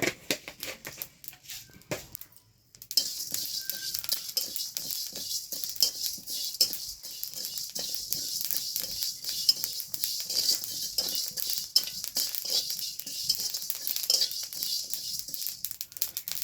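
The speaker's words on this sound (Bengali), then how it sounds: "এখন পাঁচ ফোড়নটা বাজে নেই" Panch phoron seeds dry-roasting in a pan, a brief quiet lull and then a dense, crackly rattle of seeds skittering and popping against the metal, close and steady.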